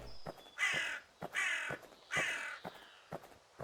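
Three harsh, loud crow caws spaced evenly apart, with short dry clicks ticking between them in an otherwise quiet scene in the video game Pumpkin Panic.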